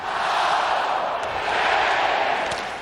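Hockey arena crowd at a 1996 Western Conference Finals game in Detroit, cheering for the Red Wings in a broad sustained roar that swells and eases, with faint commentary beneath.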